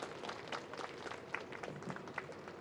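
An audience applauds at an outdoor memorial rally for a labor activist, a dense, even patter of many hands clapping, fairly faint and distant throughout.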